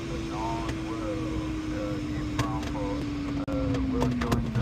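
A 20-metre-wingspan DG505MB motor glider stalls in flight: a steady rush of airflow fills the cockpit while a slowly falling tone drones underneath, with soft chirping beeps and faint clicks scattered on top.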